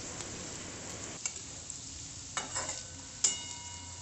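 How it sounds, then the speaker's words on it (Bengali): Onions fry in a pan until golden brown, a soft steady sizzle with occasional scraping stirs of a utensil against the pan, close and fairly quiet with no talking. "পেঁয়াজগুলো একটু গোল্ডেন ব্রাউন করে আমাদেরকে ভেজে নিতে হবে।"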